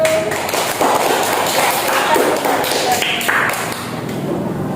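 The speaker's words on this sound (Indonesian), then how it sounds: "Kita beri tepuk tangan dulu untuk kelompok 1" Students in a classroom applaud group 1 after its presentation, a dense wash of clapping hands with a few louder slaps standing out, mixed with faint voices in the room.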